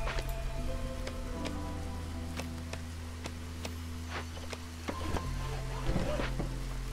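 Steady drizzle from the city-building game Against the Storm, a soft continuous patter of rain under a low ambient drone, with occasional faint clicks and ticks of game activity mixed in.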